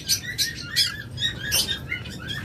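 Long-tailed, egg-laying pet birds chirp in quick, bright bursts, several close tweets overlapping and repeating in an irregular rhythm.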